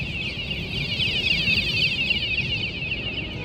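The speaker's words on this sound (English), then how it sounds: "Got an alarm on this bicycle." A bicycle alarm going off on a New York City street, a loud, continuous warbling electronic tone over low street noise.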